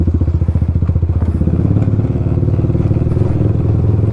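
A Pulsar NS200 motorcycle fitted with an Akrapovic exhaust burbles and revs close by at night, a loud rapid thumping exhaust pulse that settles into a deeper, steadier idle.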